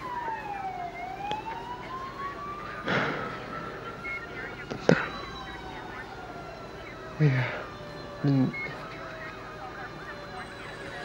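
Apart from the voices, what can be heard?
ambulance siren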